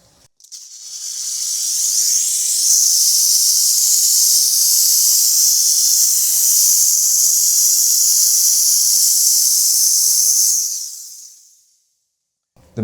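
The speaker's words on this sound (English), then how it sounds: "the same technique with the steam cleaner, you just heat up the surface, get the glue nice and soft so that it releases easy" A steam cleaner heats a vehicle's painted surface to soften sticker glue, giving one steady, loud, close hiss that starts quickly, holds for about ten seconds, then cuts off, with no talking.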